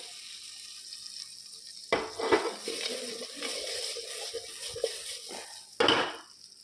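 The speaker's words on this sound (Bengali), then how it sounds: "এখানে বিরিয়ানিটা ঢেলে দেবো গামলায়।" Buttered biryani is tipped from a cooking pot into a large metal bowl, producing a few seconds of close scraping, rustling and clattering, with a sharp metallic knock near the end.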